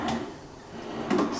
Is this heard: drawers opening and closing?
yes